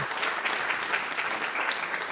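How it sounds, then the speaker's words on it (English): Steady applause from a startup pitch event audience, a dense wash of clapping hands that holds evenly throughout. "is that worth another round of applause maybe?"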